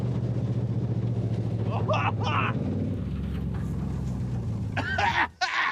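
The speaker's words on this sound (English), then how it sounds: "I gotta stop. The engine is so not happy." A race car's engine labours and strains during a timed run, a rough droning note under a voice talking over it, with a brief dip near the end.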